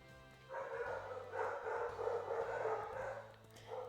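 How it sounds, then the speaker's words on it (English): A real household dog barks faintly in the background of a room, behind the steady sound of a Pokémon Black game. A run of muffled, distant barks continues through the clip with no one talking. "That's my dog's barking, if you can hear that."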